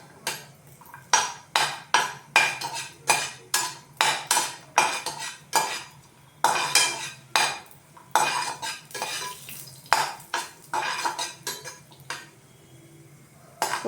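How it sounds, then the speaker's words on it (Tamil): Halved cashew nuts roasting golden in a pan, heard as a fast, regular run of metal spatula strokes clanking and scraping against the pan over a faint sizzle, close by and with no talking. "ரெண்டாக உடைச்ச முந்திரி பருப்பை சேர்த்து பொன்னிறமாக வறுத்து எடுத்துக்கணும்"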